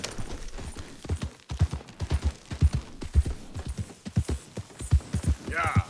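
A horse's hooves clip-clop in a steady trotting rhythm in Red Dead Redemption 2, thudding loudly and close, with a faint tonal sound near the end.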